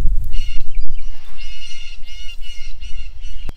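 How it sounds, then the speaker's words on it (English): Birds near a garden of fava beans give a run of repeated squawking calls in rapid pulses, loud and close, over low rumbling background noise. "Kid is very concerned about those birds making sounds."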